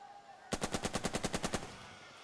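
A weapon squad in the war game Burden of Command opens fire in a rapid burst of about ten evenly spaced, sharp shots, loud and close, ending abruptly.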